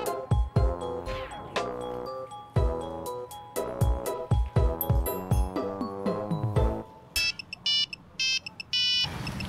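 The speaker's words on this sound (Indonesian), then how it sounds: "Telepon bunyi tuh." A phone ringtone plays a bright, repeating melodic tune, loud and close, followed by a burst of rapid high electronic beeps near the end.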